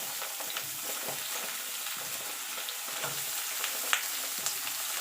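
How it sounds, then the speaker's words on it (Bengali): Pointed gourd (potol) pieces frying in oil on low heat give off a steady soft sizzle with light intermittent crackles and occasional gentle stirring noises, close by, no one speaking. "এবার পটলটা ভেজে আমি লাল লাল করে ভেজে তুলে নেব"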